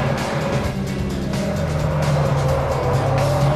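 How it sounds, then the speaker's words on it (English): A Mitsubishi Lancer engine roars steadily and loudly as the car accelerates hard out of a corner on a track, with a constant close droning note throughout. "Terrific engine, really gutsy, really pulls me out of that corner there."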